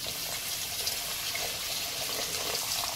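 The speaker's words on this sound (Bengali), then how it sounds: "এইবার আমি জল দিয়ে দেবো, পরিমাণ মতো জল দেবো" Water poured steadily into a pan of cooking vegetable curry for fish, a continuous close gushing splash with no pauses and no voices.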